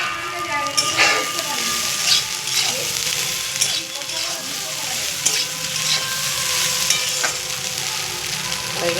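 Egg frying in a pan together with chopped stale roti for roti chowmein, giving a steady broadband sizzle with scraping and stirring clatter throughout, close and fairly loud, with no talk over it.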